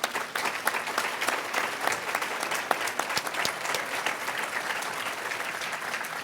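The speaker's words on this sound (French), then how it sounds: "j'aimerais qu'on applaudisse" An audience at a public event on civil liberties in Grenoble applauds steadily, a dense wash of clapping from many hands throughout, fairly distant and even in level.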